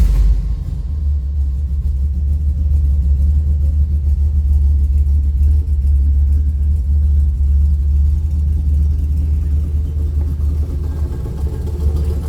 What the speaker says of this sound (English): Let's go ahead and start this up so you can hear it run. 302's got a nice sound to it.